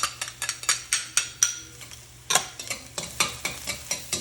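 Garlic joins darkening onions frying in a pan, a soft sizzle under a quick, rhythmic series of close scraping and tapping strokes from a spatula, with a brief pause midway.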